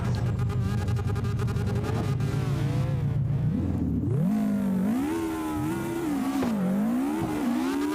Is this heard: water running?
no